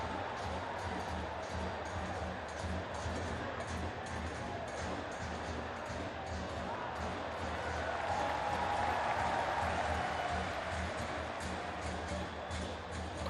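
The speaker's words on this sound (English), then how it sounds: "Crowd are enjoying this performance at the moment." Crowd noise fills a football stadium during an AFC Champions League Two match, a steady dense roar that swells louder for a few seconds near the end, with faint whistles or horns above it.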